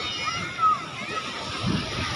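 Waves slosh and splash along a shore in a soft, uneven wash, with people talking over the water.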